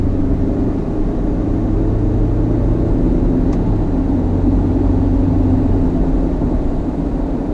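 A 2019 Ford Ranger XL pickup with a 10-speed transmission cruising along, giving a steady low engine drone and road hum inside the cab, even and fairly loud with no talk.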